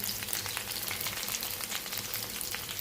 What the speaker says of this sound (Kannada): ಸ್ವಲ್ಪ ಎಣ್ಣೆಯಲ್ಲೇ ಹಾಕಿ ಫ್ರೈ ಮಾಡಬೇಕು.